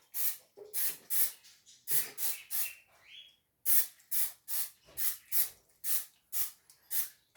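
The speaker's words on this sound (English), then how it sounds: "that's a cooking spray" Repeated short bursts from a cooking spray can, about a dozen quick hissing sprays in a steady rhythm, close and fairly loud.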